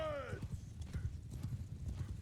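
Horses' hooves clip-clop in a dense, rapid patter in Mount and Blade 2 Bannerlord, a mounted group on the move with a horse whinnying at the start, steady and close throughout.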